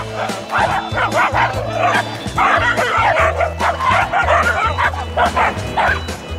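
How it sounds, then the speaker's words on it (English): A dog barks on a street, loud and close, with rapid repeated bow-wows, sharp yips and whimpers that continue almost without pause. "I know there's a dog."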